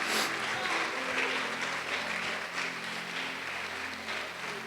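Broad, steady applause from a church congregation, filling the whole stretch without pause, with a low hum underneath and no clear talking.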